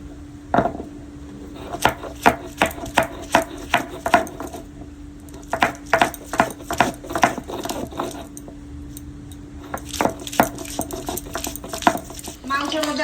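Peeled ginger and garlic are ground into paste by hand, with repeated rhythmic knocking and scraping strokes, close and fairly loud, and a faint voice in the background.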